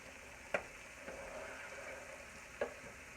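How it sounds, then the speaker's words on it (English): Hamburger meat with onions and peppers sautéing in a pan, a faint, steady low sizzle with two sharp clinks of a utensil against the pan, no voices. "heating this hamburger meat up and sauteing the onions and peppers a little bit"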